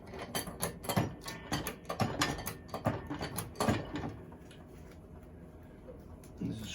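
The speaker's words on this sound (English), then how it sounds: "Jacking it up now." A Yamaha FS1E motorcycle is jacked up, giving a quiet run of metallic clicks, ratcheting and clanks in uneven bursts for about four seconds, close but faint, before fading to a low background hush.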